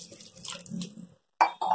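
Roughly a glass of water is poured into a pressure cooker holding small carrot pieces, giving short splashing, trickling bursts with a brief silent gap between them.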